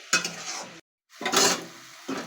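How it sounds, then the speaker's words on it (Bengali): Cumin, turmeric and salt being stirred in a pan, a scraping, sizzling stir in two bursts with a short silent gap, close and fairly loud. "জিরে হলুদ পরিমাণ মতো নুন যতক্ষণ এর থেকে তেল না বেরোচ্ছে ততক্ষণ এটা নাড়াচাড়া করে নিতে হবে"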